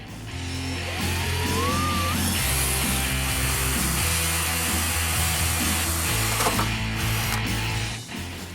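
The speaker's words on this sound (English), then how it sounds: "We're going to start by drilling this hole with a pilot hole." A power drill whirs loudly and steadily close by, its motor pitch stepping up and down as it bores a small pilot hole in a Ford F-150 for a reverse light, with no talking.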